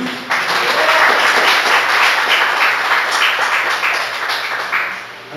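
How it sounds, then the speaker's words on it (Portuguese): Church congregation applauding for several seconds, a dense, steady wash of many hands clapping close and loud, with a few faint voices mixed in. "Você pode dar uma aplauso ao Senhor Jesus?"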